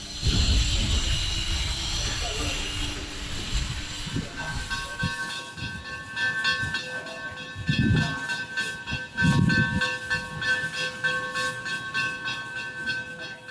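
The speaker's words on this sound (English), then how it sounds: "There it is, the Durango Silverton train up here in Silverton." A loud hiss of escaping steam at the start, then chugging and rumbling bursts from the nearby Durango & Silverton heritage steam locomotive in Silverton, Colorado, over a steady whistle-like tone, no talk.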